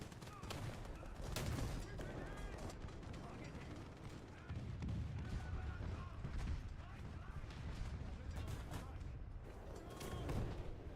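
Artillery strike in War Thunder tank battle, a continuous rumble of distant booms and bursts rolling on for several seconds while a player talks over it.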